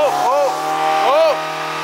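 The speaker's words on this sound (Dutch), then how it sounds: "De dumbbell ligt op het gaspedaal." Car engine revving with a dumbbell resting on the gas pedal, a wrecked motor whining in two rising-and-falling sweeps over a steady drone, loud and close.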